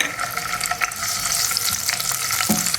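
Two tablespoons of raisins frying in hot oil in a pan, giving a steady, close sizzle with small crackles and pops and a few stirring scrapes, no voices.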